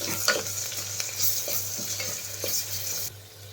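Curry leaves, mint, turmeric and ginger-garlic paste fry in a pan for paneer biryani, with a steady sizzle and repeated scrapes of a spoon stirring through the mixture, loud and close; the sizzle drops off near the end.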